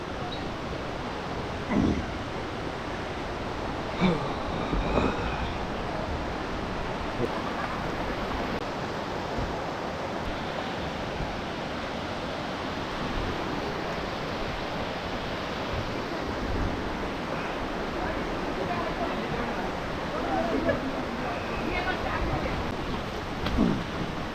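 A waterfall on the Harishchandragad trek, where water pours down to the valley below, gives a steady, dense rushing roar that never lets up, with faint scattered sounds over it.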